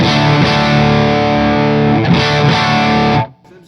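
Charvel Guthrie Govan signature electric guitar through a Victory MK overdrive, a loud sustained distorted chord ringing thick and steady for about three seconds before being cut off into quiet.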